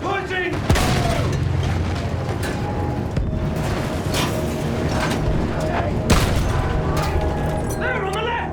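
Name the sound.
field gun firing in the video game Battlefield 1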